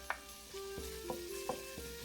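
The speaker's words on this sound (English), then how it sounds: "Add some garlic and ginger. Let that cook until fragrant." Garlic and ginger frying in olive oil in a pan, a soft steady sizzle broken by a few scraping stirs and light clinks of a utensil, close and fairly quiet with no talk.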